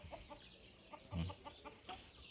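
Backyard chickens in a home coop give a run of short, soft clucks and chirps, scattered in quick bursts with one slightly louder call near the middle, fairly close but quiet.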